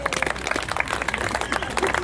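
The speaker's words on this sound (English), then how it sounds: "We're going to start with 3-ball juggling, which should garner a polite round of golf applause." A street show audience gives a polite round of applause for a 3-ball juggling act, with steady, moderate clapping throughout and crowd murmur underneath.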